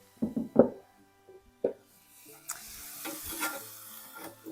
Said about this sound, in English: Now we're just going to mix that sauce throughout.